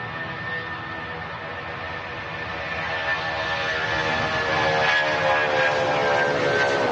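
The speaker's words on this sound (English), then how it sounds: "The Jet 2757 screaming out of Manchester Airport." A Jet2 Boeing 757 jet takes off from Manchester Airport, its broad engine roar steady and fairly near, swelling gradually louder over several seconds with a thin high whine running through it.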